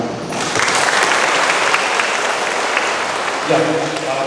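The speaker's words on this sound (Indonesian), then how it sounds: "tepuk tangan." Audience applause at a Dharma talk in a Buddhist vihara, a dense, loud wash of clapping that fills the whole stretch, with a voice coming through briefly near the end.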